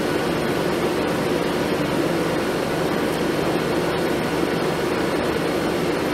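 Crest (Fedders) portable air conditioner running on low cool in a kitchen, a loud steady broadband whoosh of fan and compressor hum that stays constant and close throughout with no talk.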